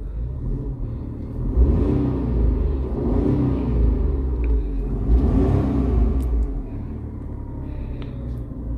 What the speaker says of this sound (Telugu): RPM దాటినప్పుడు కొంచెం ఇంజన్ సౌండ్ అయితే మనకు వినిపిస్తుంది